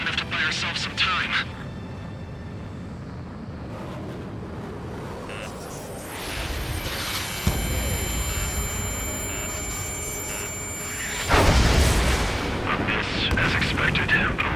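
Railgun shots and heavy explosions roar through an Ace Combat 7 air battle, with deep booms and a loud blast near the end under continuous jet and combat noise, while radio chatter plays over it.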